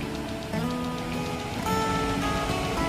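Roaring water of Chitrakote waterfall, India's widest, makes a dense, continuous rushing wash that swells slightly partway through.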